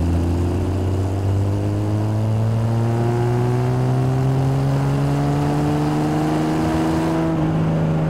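Triumph TR6 sports car engine pulling away from 1,000 RPM in fourth gear, a loud, steady drone that rises gradually in pitch as the car accelerates smoothly, heard close with no talking.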